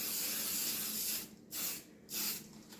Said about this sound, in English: I'm just going to spray it lightly